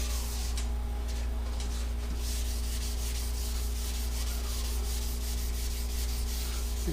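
Steady wet sanding of a painted body panel by hand, a continuous close rubbing and scraping with soft swishes of grit over wet paint, with no voices.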